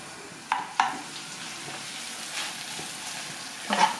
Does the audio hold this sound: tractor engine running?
no